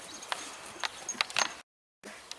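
Hooves of a horse moving about an arena during a horse-and-rider coaching session: a few scattered, uneven clip-clop thuds at moderate distance over low background noise, broken by a brief dropout.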